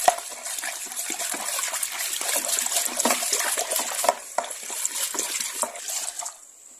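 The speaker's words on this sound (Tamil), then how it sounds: "நீங்க பேஸ் ஆட் பண்ணிட்டு ஒரு 5 மினிட்ஸ் நல்லா மிக்ஸ் பண்ணுங்க" Phenyl base is stirred into a container of liquid to make phenyl, a continuous wet swishing and sloshing with small clinks from the stirring utensil, close and steady throughout with no talking.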